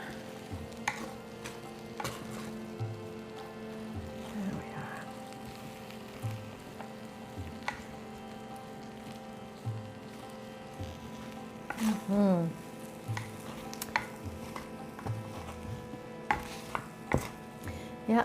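Hot sausage, sage and fennel stuffing is mixed in a sizzling pan, giving a steady low frying hiss with scattered scraping and stirring knocks, busier near the middle, with a few faint clinks.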